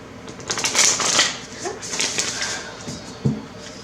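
Oracle cards are shuffled with soft, quick riffling and flicking bursts, close by, while a voice talks quietly underneath.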